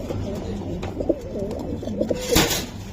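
Racing pigeons coo in soft, repeated rolling calls throughout at a pigeon farm, with light rustling and a faint voice in the background.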